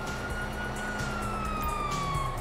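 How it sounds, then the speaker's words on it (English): A police siren in GTA 5 wails steadily over a low rumbling background, moderately loud and sounding somewhat distant. "you hear that? Sirens!"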